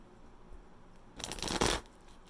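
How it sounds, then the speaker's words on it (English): A deck of tarot cards is given one quick shuffle in a quiet room, making a short, crisp riffling flutter that lasts about half a second. "let's do one more shuffle."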